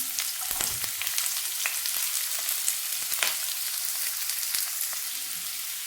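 Onion, cauliflower, carrot and green beans sizzling in a pan, a steady close crackling fry with scattered scrapes and clicks as the vegetables are stirred, no voices.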